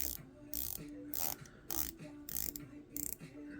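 Crisp ratcheting clicks from the 120-click bezel of a bronze Kraken dive watch with an NH38 movement, turned by hand in several short bursts with brief pauses between. The clicks are close and quiet.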